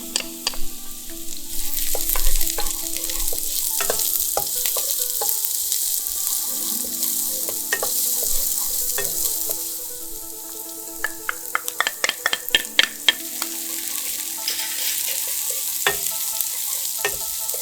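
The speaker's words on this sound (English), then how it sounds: "Turn down the heat and add the onions and garlic and saute for a minute." Onions and garlic sauteing in hot oil in a wok, a continuous close sizzle with a burst of sharp clattering stirring strokes near the end, no voices.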